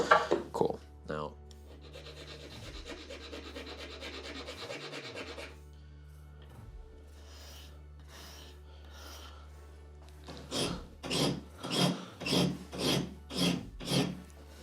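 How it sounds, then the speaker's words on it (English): Hand filing on a part, with a steady rasping stretch followed by a series of distinct rhythmic file strokes, close and clear, with a few brief other noises at the start. "This side just needs a little bit of filing down."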